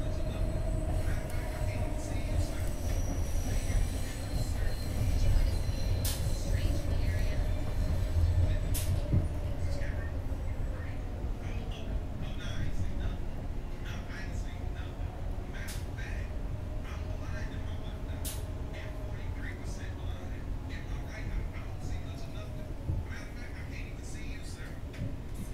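Inside a SEPTA Market-Frankford Line subway car in Philadelphia, a low rumbling drone of the train with occasional clicks and rattles, while a voice speaks over it at times.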